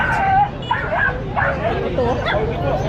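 Puppies at a pet market in the Philippines yip, bark and whimper in close, repeated high cries over a crowd hubbub and someone talking.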